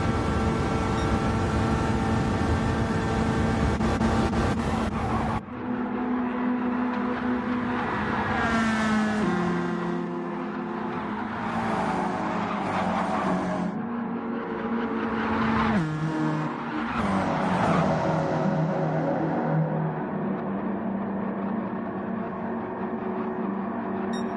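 Race cars at Daytona in Gran Turismo 7, engines droning continuously at high revs with shifting pitch as cars pass and close up, a loud dense pack sound filling the whole stretch.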